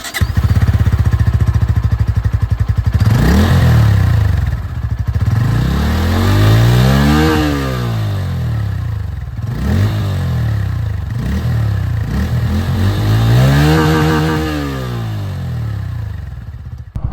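A black Bajaj Pulsar N150 motorcycle revs up and back down about three times, each rise and fall of the engine note loud and close, with no talking.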